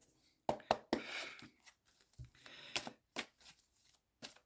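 Tarot cards are shuffled in quick, quiet riffles and slaps, several short bursts separated by brief pauses, close up with no talking.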